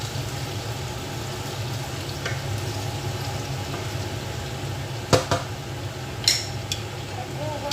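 Carrots and apples simmer in a pot with a steady low bubbling hiss, broken by a few sharp clinks of a utensil against the pot as they are stirred.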